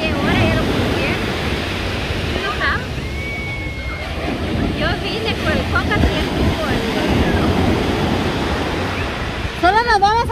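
Sea waves wash steadily onto a beach shore in a continuous rushing surf roar with wind buffeting the microphone, while people talk over it and a voice rises near the end.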